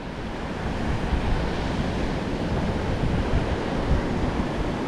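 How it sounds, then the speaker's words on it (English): Strong winter wind at Can Picafort, Mallorca, roars and buffets steadily, a broad rushing noise that sounds much like surf, with no talking. "Today the weather here is actually quite nice, but it's very windy."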